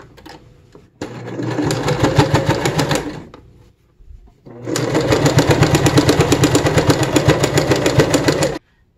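A sewing machine stitches fabric in two long, steady runs of rapid needle clatter, close and loud, separated by a brief pause, with no talking.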